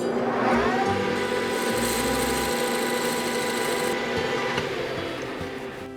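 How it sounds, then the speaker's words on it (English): Machine finishing a cut on a plug for a snack stand build, a steady mechanical whir with a high whine in the middle, fairly close, easing off toward the end. "And so now I'm gonna go ahead and finish cutting this plug."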